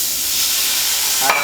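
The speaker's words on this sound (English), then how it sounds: "So a bit of oil in there. Spices are getting toasted off." Spices toasting in a little oil in a hot pan give a steady, close sizzle and hiss with a brief scrape near the end, while bean and chorizo taco filling is cooked.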